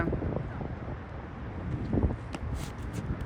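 Wind gusts at an outdoor friendly cricket match in Qatar, buffeting the microphone with a low, uneven rumble that swells and eases, while faint voices come through now and then.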